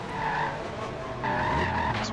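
A race car in a racing video game brakes hard, its tires skidding and squealing loudly for about two seconds, with a brief lull midway before the screech resumes.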